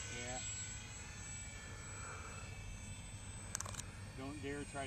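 An Airfield Sky Trainer 182 RC model airplane flies overhead, its faint, steady electric motor whine holding at a distance while people talk nearby.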